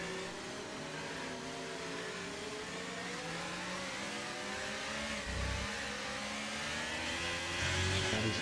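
A racing car engine at Circuit of the Americas accelerates on a restart after the safety car, its rising and falling whine held steady before deepening into louder roaring revs near the end, heard alone without commentary.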